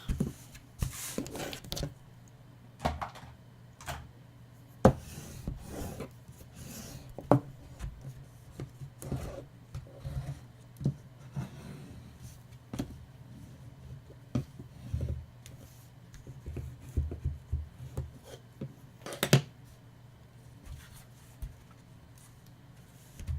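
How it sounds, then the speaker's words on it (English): The leather edge of a handmade passport folder is burnished by hand, giving repeated soft rubbing and scraping strokes in an uneven rhythm over a low steady hum, close up and without speech. "I'm going to burnish this."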